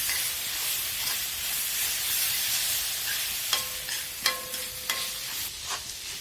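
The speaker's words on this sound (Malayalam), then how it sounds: "ഇനി അത് നന്നായിട്ടൊന്ന് മിക്സാക്കിയിട്ട് മൂത്ത് വരണം രണ്ടും കൂടി" A mixture is stirred and fried in a pan, with a steady close sizzle and hiss and a few sharp metallic scrapes and clinks of the spoon against the pan toward the end, and no talk.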